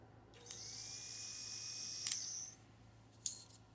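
A GY6 scooter starter motor, cleaned up and bench-tested on battery clamps, gives a high whine that lasts about two seconds. A click comes as it starts and again as it stops, then a short second burst follows.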